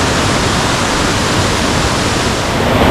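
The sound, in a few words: small waterfall near Kuttikkanam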